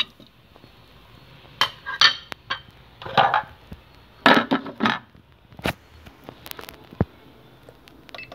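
Lid going onto a Thermomix pot amid kitchen handling, a series of close clacks, scrapes and knocks of hard plastic and metal, scattered irregularly with quiet gaps between them.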